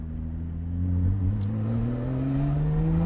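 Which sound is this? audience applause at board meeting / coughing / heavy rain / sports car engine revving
sports car engine revving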